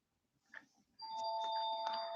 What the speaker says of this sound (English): please don't mind the noise. It's the ringing the bell of the house.